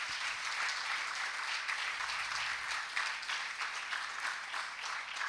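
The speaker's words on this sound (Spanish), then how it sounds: "Vamos a regalarle una ofrenda de palmas al Dios de la gloria." A church congregation claps steadily throughout, a dense, even wash of many hands that keeps up without pause and with no voices over it.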